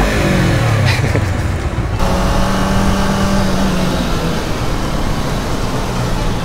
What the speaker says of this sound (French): C'est la voiture de police.